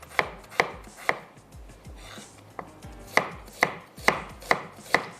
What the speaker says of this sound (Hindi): ये जो हमारे पास प्याज है इसको मैं थोड़ा सा रफली स्लाइस या चॉप कर लेते हैं